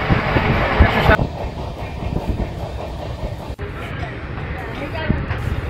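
The Coromandel Express passenger train rumbles and clatters steadily at close range, with wheels clacking over rail joints and a low mechanical roar throughout, while people talk and a crowd murmurs underneath.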